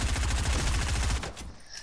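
VIP grenades in Fortnite going off as a dense burst of rapid, loud popping blasts for over a second, then cutting off sharply into quiet.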